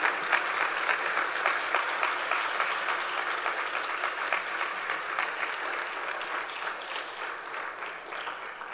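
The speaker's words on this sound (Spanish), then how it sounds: "denle un aplauso al Rey" A church congregation applauds for their King, the sound a steady, dense wash of many hands clapping, moderately distant and sustained for the whole stretch without pause or voices on top.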